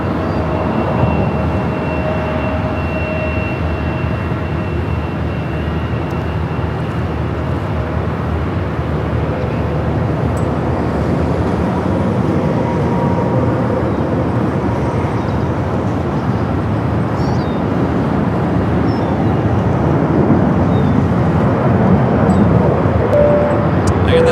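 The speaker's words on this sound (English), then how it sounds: "Japan Airlines Dreamliner, the flight coming from Osaka, heading into one of the west side gates of Tom Bradley." A Japan Airlines Boeing Dreamliner taxis at LAX toward a Tom Bradley terminal gate, giving a continuous low engine rumble with a faint steady whine, swelling slightly toward the end.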